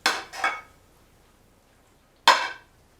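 Wild rice scooped into a red serving dish, heard as three sharp clinks and scrapes of a utensil against the dish: two quick ones close together, a pause, then a final louder one, with no talking.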